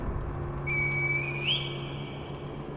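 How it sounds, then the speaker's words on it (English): A reed whistle in the video game Sekiro sounds a thin, clear tone that bends upward partway through, then fades, over a quiet low game hum. "Call the divine air with a reed whistle?"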